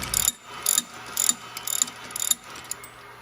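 A dead blow hammer taps the bolt heads of an electric motor through a block of wood, giving about six sharp, separate knocks in an uneven rhythm, each with a short ringing tail, close and moderately loud.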